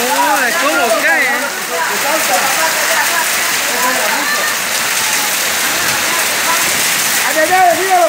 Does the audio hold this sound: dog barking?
no